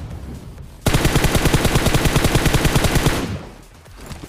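Rapid automatic gunfire in PUBG, a loud, steady burst of evenly spaced shots lasting a couple of seconds after a quiet start, then fading into low background noise.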